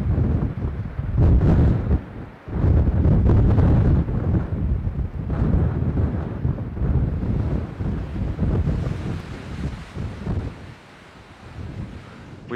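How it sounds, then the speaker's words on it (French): Strong wind at Cape Horn buffets the microphone in heavy gusts, roaring and rumbling continuously, easing somewhat toward the end. "the wind is dropping"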